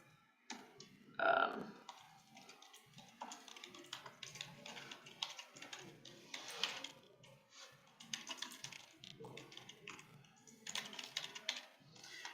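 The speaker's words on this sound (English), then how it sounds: "so I'm just typing that in" Quiet typing on a computer keyboard while filling in a DocuSign form template, a loose run of soft key clicks with short pauses, plus a louder knock near the start.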